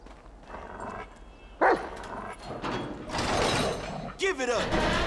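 A dog in the Grand Theft Auto 5 video game barks and yelps in a few sharp bursts amid game noise and overlapping voices.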